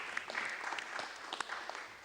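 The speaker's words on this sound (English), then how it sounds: "I close by asking you all for a round of applause to our three speakers, Howard Frumkin, Peter Raven, Ulrich Po." An audience applauds three speakers at an academic conference, a steady wash of clapping hands with a few sharper individual claps standing out, filling the whole stretch without talk.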